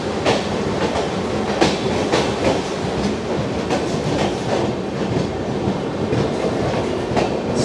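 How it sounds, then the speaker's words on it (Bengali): The Kanchankanya Express pulls out of Bolpur station with a loud, steady rumble and a continuous clickety-clack of wheels over rail joints, heard close and with no voices. "এই যে বোলপুর থেকে ট্রেন ছেড়ে দিল।"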